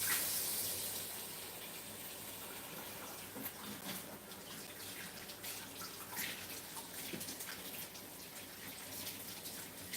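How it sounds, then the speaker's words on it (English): Icy cold water running from a tap, a continuous close splashing rush with uneven gurgles and droplet spatter, strongest at the start and then settling. "That's some icy cold water."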